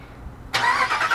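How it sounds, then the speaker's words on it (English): A 2020 Ram 1500 Big Horn Night Edition with a 5.7-liter engine starts by remote, with a quiet lead-in then an abrupt crank and the engine firing into a loud, full idle. "Let's press that twice and that'll remote start the truck."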